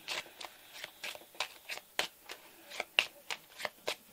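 Tarot cards are shuffled by hand in a quiet room, a close series of crisp riffling swishes and soft slaps in an uneven, steady rhythm.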